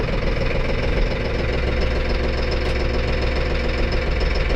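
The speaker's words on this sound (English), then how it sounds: "I'm going to crank this Massey Ferguson tractor" A Massey Ferguson tractor engine runs steadily after a cold start, a dense, loud diesel clatter with a knocking rhythm that stays constant and close throughout, with no voices.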